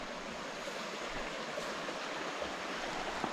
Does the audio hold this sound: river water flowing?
yes